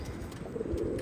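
Old-breed pigeons coo softly in a short, close burst, low throaty warbling notes against a quiet background.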